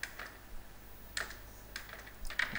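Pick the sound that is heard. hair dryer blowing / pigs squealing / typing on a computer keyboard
typing on a computer keyboard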